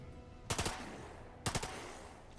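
Gunfire in The Lamplighters League video game comes as two quick bursts of three or four sharp shots each, about a second apart, crisp and loud against a quiet background.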